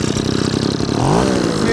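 A Cobra BV26C petrol blower vacuum engine chugs unevenly on the recoil pull, then catches and revs up to a steady, loud running drone, close by.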